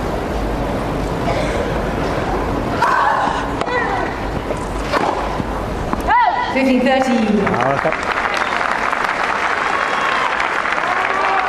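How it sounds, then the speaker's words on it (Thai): Wimbledon 2008 women's tennis crowd, Tanasugarn versus Venus Williams, applauding and cheering around a second serve, loud and continuous under steady commentary talk. "กองเชียร์เชียร์ลูกเสิร์ฟที่2เขานั้น93ครับ"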